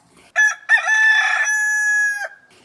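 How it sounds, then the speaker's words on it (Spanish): A rooster crows once, loud and near, a long drawn-out cock-a-doodle-doo with a sustained ringing tone that tails off, heard alone against a silent background. "Y en ese momento el gallo cantó."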